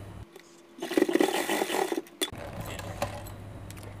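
Sewing machine stitching a folded edge of old shirt fabric while turning it into a top, a loud mechanical whirring burst running for about a second and a half, then stopping, with brief clicks and handling after.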